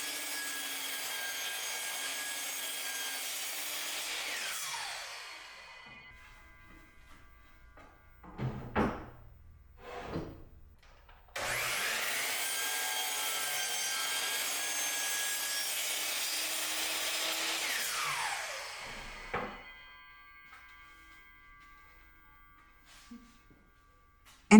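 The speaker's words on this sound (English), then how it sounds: "Use the miter saw to make sure you have 90-degree angles and clean up the sides." Miter saw cutting hardwood stock for a rustic tray: two long, loud bursts of high whining blade noise, each winding down, with brief knocks and handling sounds between them in a workshop.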